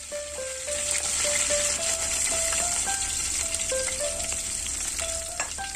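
Curry leaves, garlic, onion, red chillies and mustard seeds tempering in hot oil give a steady close sizzle and crackle, with occasional sharp pops and light clinks from stirring, no voices.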